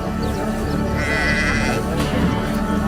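Sheep bleating close by, a loud wavering cry in the middle followed by a shorter second call over a busy, noisy farm background, with no speech.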